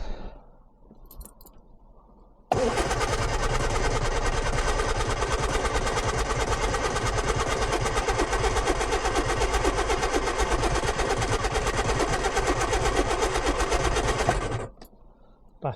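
Lotus Twin Cam engine cranking over on a weakening battery, a steady loud mechanical churn running about twelve seconds without catching, framed by quieter background before and after.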